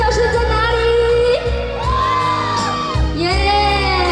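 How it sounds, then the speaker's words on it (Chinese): A concert crowd screams and cheers loudly and continuously at an outdoor rice food festival in Miaoli, with shouts and whoops rising and falling in waves, near and alone. "还有幸福的尖叫声，不够大"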